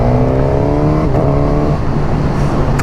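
A 2021 Suzuki GSX-S 1000 four-cylinder motorcycle accelerates hard, its engine note rising steadily through the revs, loud and close with rushing wind noise.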